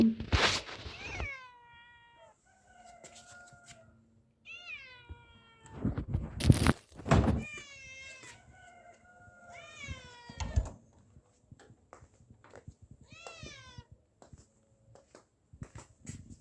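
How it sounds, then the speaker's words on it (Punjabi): A hungry kitten meows repeatedly at a door, with several drawn-out, high-pitched cries separated by short pauses. It sounds close and clear, with a little handling noise in between. "ਇੱਥੇ ਮਾਣੋ ਬਿੱਲੀ ਦਾ ਬੱਚਾ ਬੈਠਾ ਰੋ ਰਿਹਾ ਸੀ ਭੁੱਖ ਲੱਗੀ ਦੀ ਇਹਨੂੰ ਸ਼ਾਇਦ"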